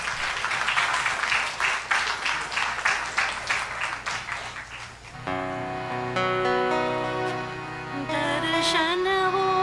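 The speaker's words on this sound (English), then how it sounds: "Please welcome them with a hearty round of applause" An audience at a Mother's Day kirtan program applauds in a dense, steady burst for about five seconds, then the clapping gives way to harmonium, guitar and tabla music that carries on alone.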